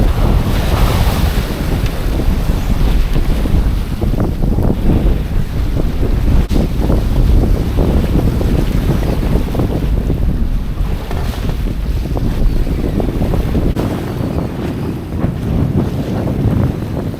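Strong wind roaring across the microphone with waves washing against a sailboat as it jibes, a loud, continuous rush of air and water.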